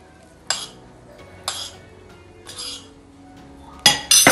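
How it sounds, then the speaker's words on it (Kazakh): Fish batter of egg, salt, water and flour is mixed in a bowl. A utensil strikes the bowl in spaced clinks about once a second, then a louder burst of clattering at the end, with no voices. "Жақсылап араластырып аламыз."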